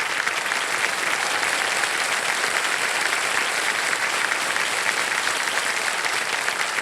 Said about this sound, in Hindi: हाँ तालियां बज जाएं इनके लिए